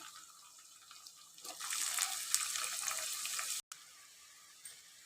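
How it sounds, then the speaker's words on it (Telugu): Cut eggplant and potatoes drop into hot oil with already-fried onions, setting off a bright, steady sizzle that swells, briefly cuts out, then carries on more softly. "ఇప్పుడు ఆనియన్స్ అయితే మంచిగా ఫ్రై అయినాయి. సో నేను ఆల్రెడీ కట్ చేసి పెట్టుకున్న వంకాయలు ఆలుగడ్డలు యాడ్ చేస్తున్నాను"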